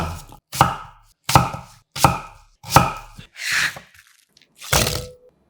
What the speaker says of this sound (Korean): 깨끗이 씻은 아삭한 사과 1개를 다시 반을 갈라 심을 잘라내고 길게 3등분 후 큼직하게 깍둑 썰어줍니다